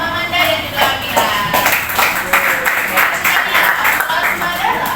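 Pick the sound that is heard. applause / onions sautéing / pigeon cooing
applause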